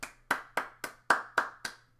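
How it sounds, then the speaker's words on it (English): Seven sharp, distinct hand claps in a steady rhythm, close and crisp, with brief silences between each clap and a faint low hum underneath. "Claps."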